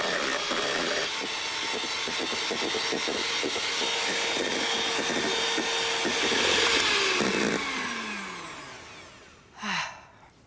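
An electric mixer whisks egg whites to firm peaks with a loud, steady whirring drone that rises slightly before slowing and stopping, then a short knock follows.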